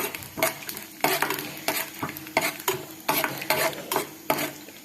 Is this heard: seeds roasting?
yes